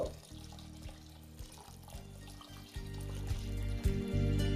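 Water, 1.7 litres of it, pours steadily and close by into a pot holding 1 kg of rice and 300 ml of milk for egg yakhni pulao, gurgling and growing a little louder as the pot fills.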